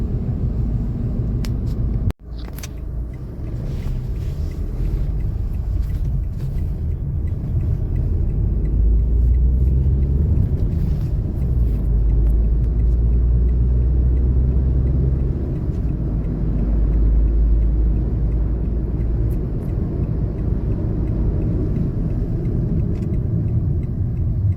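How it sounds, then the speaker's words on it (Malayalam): Steady, loud low road rumble and engine drone inside a Citroen C3 during a braking test from 60 km/h. A brief sharp click comes near the start, then the rumble continues evenly without a distinct braking event. "ഇനി നമുക്ക് ഇതിൻ്റെ ബ്രേക്കിംഗ് ടെസ്റ്റ് കൂടെ നമുക്ക് ചെയ്ത് നോക്കാം"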